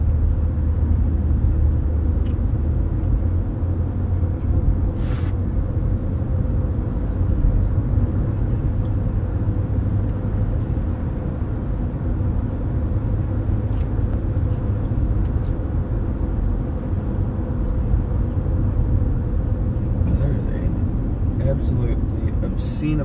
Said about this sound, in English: Absolutely obscene amount of traffic already this morning.